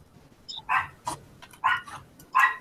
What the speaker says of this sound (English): Whoever's dog is barking, Jenny barked at them.